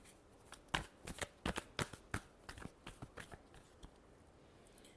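Tarot cards are shuffled by hand in a series of quick, crisp riffling slaps and flicks, irregular bursts close up that thin out toward the end, with no talking.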